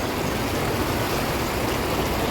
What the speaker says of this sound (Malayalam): ഈ ഒഴുകുന്ന കല്ലാറിൻ്റെ ഭാഗം തന്നെയാണ്